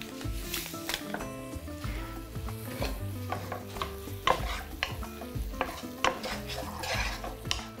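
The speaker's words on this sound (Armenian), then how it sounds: "Տապակվող սոխին" Onions sizzle and crackle in a hot pan while a utensil stirs and scrapes repeatedly against the metal, close up and busy.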